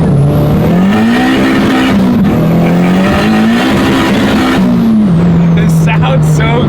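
A 600whp Honda Civic revving on a dyno, very loud and close: a sustained droning engine note that climbs and dips through several pulls, with a brief hiss near the end.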